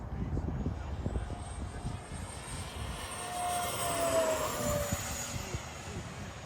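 A radio-controlled SR-71 jet fitted with blue-flame afterburners roars past in a flying pass, a steady loud turbine rush that swells toward the middle and carries a rising whine, with no break across the stretch.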